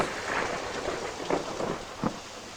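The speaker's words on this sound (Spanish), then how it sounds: "de repente empieza a llover, aparecen truenos" Steady rain hisses throughout, with soft low thunder rumbles rolling under it and a couple of brief heavier cracks near the end.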